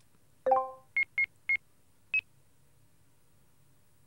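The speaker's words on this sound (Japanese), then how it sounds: "さあ、ここで一回もやったことがない美月に電話だ" Phone-call dialing beeps in a Japanese drama video game: a short rising chime, then three evenly spaced electronic tones and a fourth slightly higher beep after a pause, clean and close with no voices.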